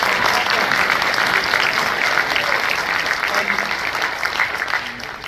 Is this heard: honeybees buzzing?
no